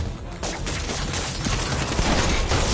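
Video game gunfire, a dense close burst of rapid shots and bangs that builds in loudness and runs without a break for the whole stretch.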